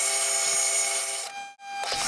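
A metal lathe turns the second face of a short workpiece held in the chuck, giving a steady high cutting whine that stops abruptly near the end before a brief resumption.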